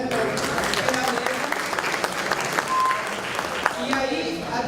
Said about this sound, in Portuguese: convido com uma salva de palmas, né, para a mesa